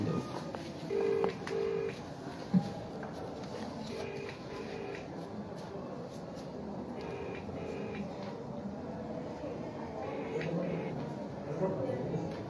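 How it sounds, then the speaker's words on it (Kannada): Telephone call to a Chikkaballapur district panchayat chief executive officer's government number, with repeated paired electronic ring tones recurring at intervals over a low steady background hum. Faint voices appear briefly. "ಪ್ರತಿ ಸರಿ ಈ ನಂಬರ್ ಕಾಲ್ ಮಾಡಿದಾಗ ರಿಂಗ್ ಆಗುತ್ತೆ"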